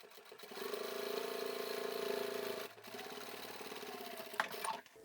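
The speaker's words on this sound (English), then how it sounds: "bring my needle down again, start sewing" A sewing machine stitches a vinyl bag seam with a steady, close motor whir and rapid needle chatter, pausing briefly midway before running again.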